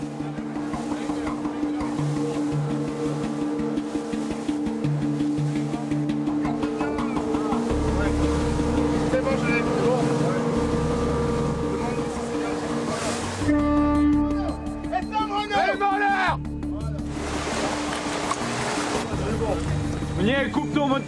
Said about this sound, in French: Nouvel écho. Et cette fois, pas de doute possible. C'est bien un kwassa.